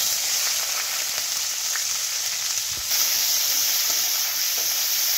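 Chopped onions sizzle steadily in hot oil for khichuri, a continuous bright frying hiss with faint stirring clatter and no voices.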